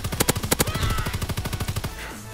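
Rapid automatic gunfire in the video game WW2: a near, loud machine-gun burst of evenly spaced shots that runs for about two seconds and then stops.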